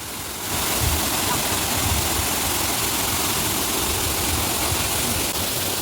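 Varavi waterfall pours in a constant, loud, full-bodied roar of rushing water that stays unbroken and close throughout.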